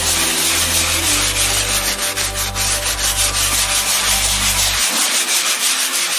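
White leather is scrubbed lightly with leather cleaner, a close, continuous rubbing and brushing texture in quick repeated strokes over a steady low hum that cuts out near the end.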